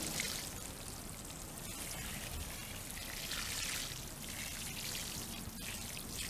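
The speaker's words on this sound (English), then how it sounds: "we are going to water this soil and then let it soak in" Water pouring onto dry, slightly hydrophobic garden soil for green beans, a steady quiet hiss and trickle that runs on unbroken with no talking.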